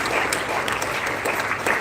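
An audience at an oratory contest inauguration ceremony claps together in a dense, steady burst of applause, fairly loud and sustained for a couple of seconds.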